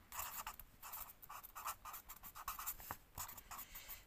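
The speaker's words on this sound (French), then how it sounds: "Et on va écrire" Pen scratching across paper in short rhythmic strokes, close and quiet, a steady run of small scrapes with brief gaps between words.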